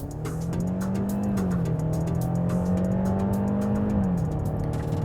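A Genesis GV80 with a 2.5-liter turbocharged four-cylinder in Sport mode accelerates at full throttle, its engine droning loud and steady with rising then shifting pitch, close up and with no talking.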